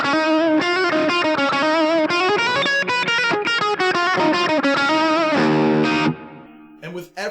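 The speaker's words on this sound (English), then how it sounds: "That's a fairly decent Overdrive channel, I would say." An electric guitar through the overdrive channel of a NUX Mighty Lite BT practice amp, with reverb, plays a quick run of gritty, sustained notes and chords, ringing out before the sound drops away at the end.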